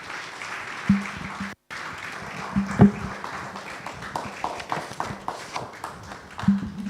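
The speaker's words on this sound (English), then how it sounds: "Please keep clapping until he takes his seat." Audience applause after a keynote at a law week event, a steady wash of many hands clapping with a few louder claps and a brief dropout, continuing for several seconds.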